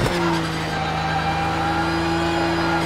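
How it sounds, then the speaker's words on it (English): A Porsche engine in the Project Cars 2 racing game holds a steady, loud drone with a harsh, whiny, somewhat vacuum-like tone, sustained evenly throughout without pauses. "It's probably got a touch too much vacuum cleaner about it, not enough of that raspiness that you get out of the real Porsche"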